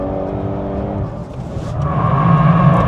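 A VW Golf 8.5 R accelerates hard under power on a track, its engine note building steadily and growing louder toward the end, loud and close with a rising low drone.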